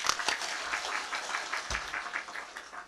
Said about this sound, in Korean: 박수 치고